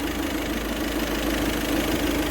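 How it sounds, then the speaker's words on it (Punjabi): Volkswagen Vento engine idles with a steady, close mechanical hum and a faint rhythmic knock, alone and unchanging throughout. "ਇੰਜਨ ਦਾ ਸਾਊਂਡ ਤੁਸੀਂ ਸੁਣ ਸਕਦੇ ਹੋ ਜੀ"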